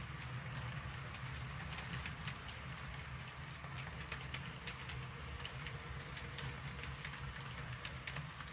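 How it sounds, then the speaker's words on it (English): A model freight train hauling loaded thrall door boxcars and empty bulkhead flatcars leaves a layout into staging, a soft continuous rolling rumble with light repeated clicking of wheels over rail joints, faint and steady. "CP81, which is also earlier Train 73, is now leaving the layout in the staging with the loaded thrall door boxcars"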